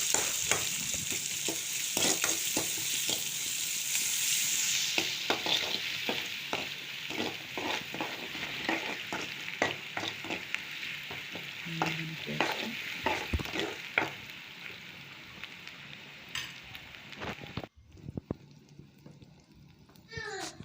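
Onions with curry leaves and chillies sizzle in a pan while a spoon stirs and scrapes in frequent close strokes, under a voice speaking throughout, with the frying easing off near the end.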